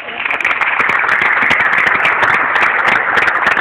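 A church congregation applauds, loud dense clapping from many hands that holds steady throughout, close and crowded.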